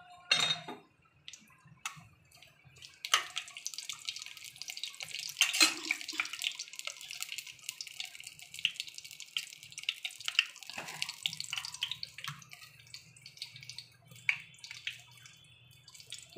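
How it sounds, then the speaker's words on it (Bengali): Water draining and dripping from strained banana flower in a kitchen, irregular trickles and small splashes, fairly faint and close, with no talking. "মোচার জলটা ছেঁকতে দিয়েছি, জলটা বেরিয়ে যাক"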